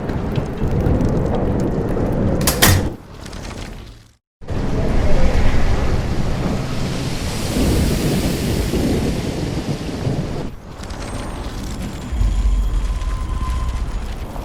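Storm in the video game Life is Strange Remastered, a loud continuous rumble of wind, thunder and rushing rain that drops out briefly, then surges back with heavy roaring gusts, no speech.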